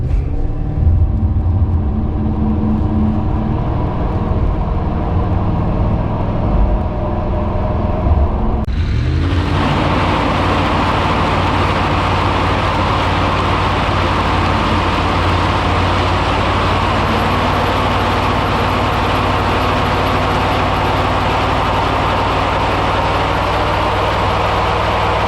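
Automatic car doing a burnout: a rumbling idle gives way after about nine seconds to a loud, sustained high-rev engine roar with hissing tire spin that holds steady to the end.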